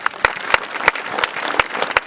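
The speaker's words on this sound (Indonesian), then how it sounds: "Tepuk tangan buat pemuda wilayah baptis" An audience at a church revival gathering claps for the Baptist youth, with sharp individual claps standing out at a fairly regular beat over a softer, scattered patter of hands.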